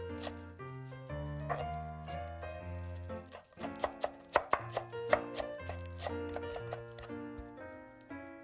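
Knife chopping a handful of cilantro on a board, with a run of sharp, close knife taps clustered in the middle, set against steady tonal music.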